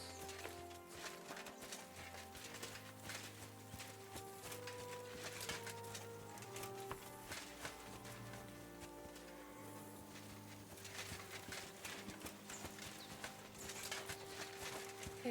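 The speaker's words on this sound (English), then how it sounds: "My, what a beautiful horse." Horse hooves clip-clop steadily at a walking pace in Kingdom Come: Deliverance II, a rhythmic series of soft thuds under a continuous bed of game music.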